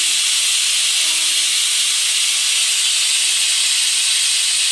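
Steady, loud hiss of steam escaping from a pressure cooker after cooking khichdi, continuous and unbroken for the whole stretch, with no voices.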